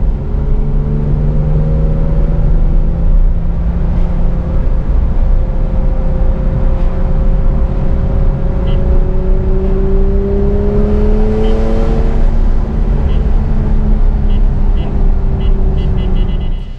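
A Porsche 911 with a Fister exhaust accelerates on the road, its engine note rising in long sweeping pitch climbs between gear shifts, loud and close from inside the car, with no talking.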